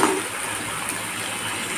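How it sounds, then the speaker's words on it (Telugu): Small prawns being rinsed in a generous amount of water for a prawn and brinjal curry, giving a steady close wash of water that runs on without a break. "జస్ట్ ఎక్కువ వాటర్లోనే ఇలా దేవండి, చాలు క్లీన్ అవుతుంది."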